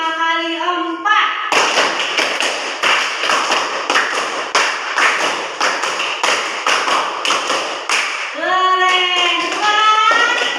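Classroom of children clapping hands together in a counted rhythmic pattern, a steady run of sharp claps in groups, with singing or chanting voices before and after the clapping.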